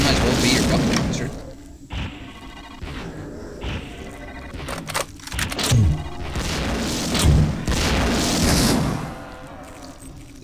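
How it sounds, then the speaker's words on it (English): In System Shock 2, a grenade launcher fires and detonates in heavy booming thumps with whooshes and mechanical clatter, several loud blasts spread across the stretch over dense game sound and talking. "I'm using a grenade launcher"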